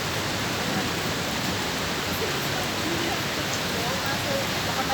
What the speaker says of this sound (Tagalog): Naabot kami ng malakas na ulan.